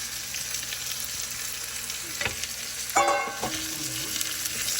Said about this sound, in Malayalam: ഇനി നല്ലപോലെ ഇളക്കി ഇച്ചിരി കൂടെ നല്ലപോലെ വഴണ്ട് വരട്ടെ